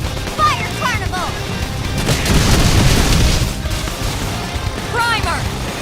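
Fire Carnival attack in the video game Xenoblade Chronicles X: Definitive Edition, a loud rolling burst of blasts and booms that swells in the middle of the clip, with character voices shouting over the battle.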